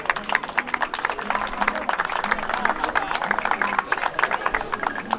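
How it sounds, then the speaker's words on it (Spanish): Audience applause at an evening parranda music and cultural gathering, with steady, dense clapping from a crowd that keeps going the whole time. "Un fuerte aplauso."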